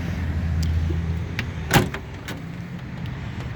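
The rear door of a 1980 Toyota Land Cruiser BJ44V diesel clunks open with a single sharp metallic latch pop and a few softer rattles and knocks around it, while an engine idles low in the background.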